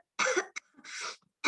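A person coughs in a few quick, dry bursts across a short moment, close and fairly quiet, with a brief throat-clearing sound between them.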